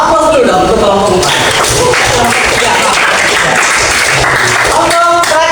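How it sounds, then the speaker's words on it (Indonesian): A classroom group gives applause to group 4, with loud, dense clapping mixed with voices and a teacher talking over it. "Aplaus dulu dong untuk kelompok 4."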